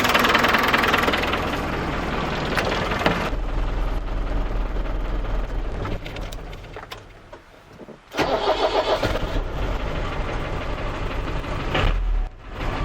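An Iveco Daily 35-8 van with the SOFIM 8140 diesel, fresh from a water pump replacement, idles loudly and roughly, then cranks and fires up again and settles back into a steady, knocking idle close by.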